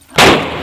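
A single firecracker goes off with a sharp, loud bang close by in a rural farm field, its burst tailing off into a brief noisy decay.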